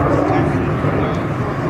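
Sea Vixen jet aircraft flying past at an air show display, a steady broad engine roar filling the whole moment with little change in loudness.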